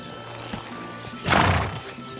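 A horse neighs loudly once in the video game Kingdom Come: Deliverance 2, a drawn-out whinny rising and fading over about a second, with faint hoof clops and background sound around it.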